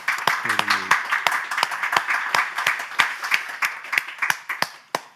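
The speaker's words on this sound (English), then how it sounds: "let's give them a big round of applause" Audience applause at a literary reading, a dense spread of claps from a crowd building steadily and holding for several seconds, with a short low murmur near the start.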